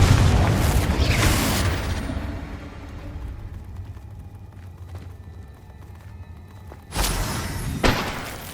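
Spell explosions cast in Hogwarts Legacy, a loud broadband blast opening the scene and decaying over a couple of seconds, then a quieter rumbling lull before two more sharp bursts near the end.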